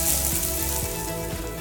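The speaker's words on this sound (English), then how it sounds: "So this is basically stir fry." Food stir-frying in a hot pan, cucumber among the ingredients, gives a loud continuous sizzle with a few brief stirring scrapes, heard close and alone.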